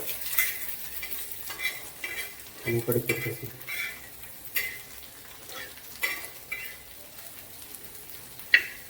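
Onion and garlic frying and being stirred in a pan for chili thecha, with soft sizzling, scraping stir strokes and occasional utensil clinks against the pan, a brief low clatter midway.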